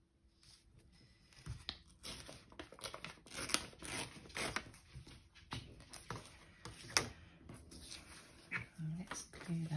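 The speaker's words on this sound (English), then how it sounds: "I will want to tear this corner piece off." Paper is torn in short, uneven rips at close range as a corner piece comes off an envelope, with rustling and handling noises between the tears and a person talking intermittently.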